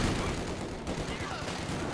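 Machine-gun suppressing fire in Company of Heroes 2 rattles as a continuous, dense stream of rapid shots mixed with battle noise, under a commentator's talk.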